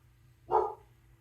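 A single short bark from a pet dog aimed at a neighbor outside, faint and somewhat distant over a low steady hum, with no talk.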